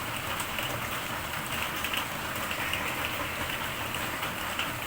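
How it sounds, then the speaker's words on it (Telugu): Rain falls outside, a steady soft hiss of drops on surfaces, continuous and fairly faint, with no voices. "మీకు వినిపించే ఉంటుంది బయట వర్షం సౌండ్"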